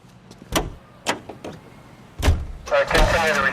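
A car in LA Noire, with a few sharp door-like thumps and clunks followed by an engine starting up and running, close and fairly loud, with no talk.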